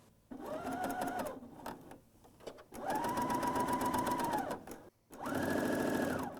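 BERNINA L 620 running a coverstitch seam, three bursts of steady, fast mechanical whirring with needle rhythm, close and loud, separated by short pauses.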